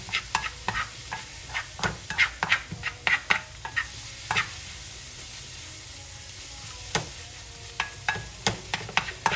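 A spoon stirs mushroom spinach sauce sautéing in a pan over medium heat, with scattered scraping and clacking strokes over a soft, steady sizzle, close and fairly quiet.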